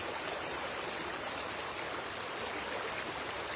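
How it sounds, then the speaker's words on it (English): A river flows steadily and evenly, a close, continuous wash of water with no pauses and no voices over it. "Just enjoying the flow of the river."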